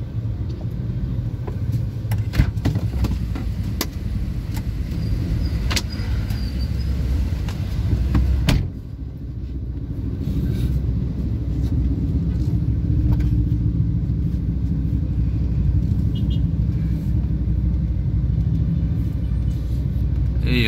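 Heavy road traffic jammed with cars and jeepneys, a steady low engine rumble and drone of idling and creeping vehicles close by, with a sharp thump and a brief dip around the middle before the continuous traffic noise resumes.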